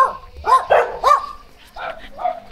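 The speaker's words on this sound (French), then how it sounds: "Oui, les chiens, d'accord." Dogs bark on a village walk in Vietnam's Mekong Delta: about five sharp barks at mid distance, three in quick succession, then a pause and two more.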